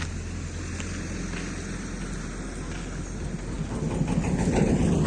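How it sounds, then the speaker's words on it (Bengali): A trawler boat departs on the Padma river at Gudar Ghat in Rajbari, its low engine rumble droning steadily and growing louder over the last couple of seconds. "এই যে ট্রলারটা ছাড়লো"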